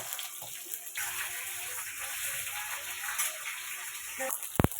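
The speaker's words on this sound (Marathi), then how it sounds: "आता तेल गरम झालंय. कारलं टाकून घेते." Bitter gourd pieces frying in hot oil give a steady, broad sizzling hiss that runs throughout, with a few sharp spattering pops near the end.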